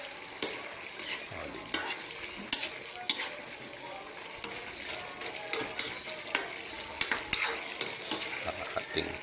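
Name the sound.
stirring pinakbet vegetable stew in a pot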